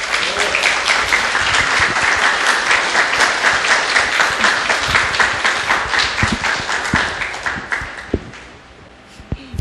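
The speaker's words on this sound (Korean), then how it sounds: "큰 박수 부탁드립니다" A crowd applauds as an author is welcomed onto the stage at a book talk. Loud, dense clapping with clearly separate hand strikes goes on for about eight seconds, then thins into a few scattered claps.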